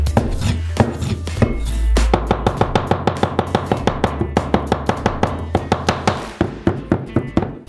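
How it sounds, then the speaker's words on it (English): A knife chops pepperoni sausage into small cubes on a board, a close, steady run of sharp, evenly spaced thuds that speeds into a quick rhythm. "Pepperoni sausages,"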